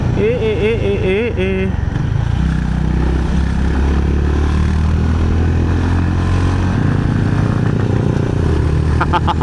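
A motorcycle engine drones steadily as it rides in traffic alongside other motorbikes, loud and continuous throughout, with a voice talking over it.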